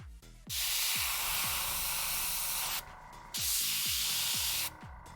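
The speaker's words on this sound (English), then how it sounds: "Maybe I have to clean my airbrush." An airbrush sprays paint onto an Ork Morkanaut model in a steady, loud hiss that runs in two long bursts with a short gap between them, while low knocks and clicks sound underneath.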